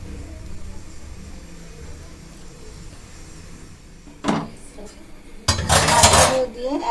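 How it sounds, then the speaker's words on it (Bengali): Pieces of hilsa fish drop into a pan, giving two brief clattering bursts with a louder sizzle-like rush at the end, over low kitchen background noise. "এখন আমি মাছগুলো দিচ্ছি।"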